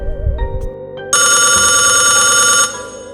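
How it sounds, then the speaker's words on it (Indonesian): A landline house telephone rings with a loud, bright electronic trill lasting about a second and a half, entering over a low eerie musical background and then dropping away. "Lalu telepon rumah di atas berdering lagi."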